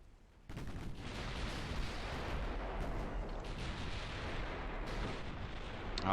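Heavy naval guns from a battlecruiser and its fleet in Ultimate Admiral: Dreadnoughts fire in a dense, continuous barrage of booming blasts that swell after a brief quiet start, with no talk.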